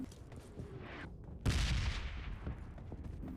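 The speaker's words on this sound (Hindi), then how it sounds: "उधर से कुछ बंदे की गन साउंड की आवाज़ आ रहे थे।" Gunfire in the mobile battle-royale game PUBG Mobile Lite, a burst of shots that swells suddenly in the middle and then continues as a busy, moderately loud crackle with no talk over it.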